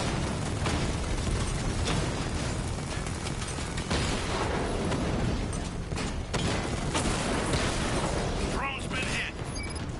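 A drone is hit and explodes in Batman Arkham Knight, a dense rumbling blast amid continuous mechanical combat noise, with game voices talking over it.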